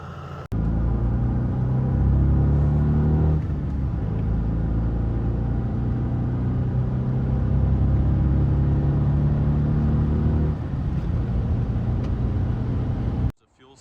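A 1995 Acura Legend LS coupe with a 6-speed cruising on the highway on a long road trip, giving a steady, loud low cabin rumble of engine and road noise that shifts slightly in pitch, heard alone and close.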